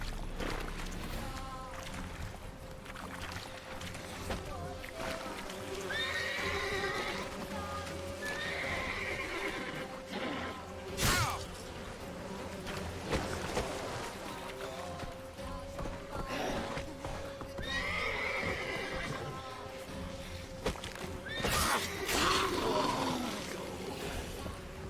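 The horse Roach in The Witcher 3 whinnies and neighs several times over rhythmic hoofbeats at a gallop, fairly close, with some ambient game background underneath.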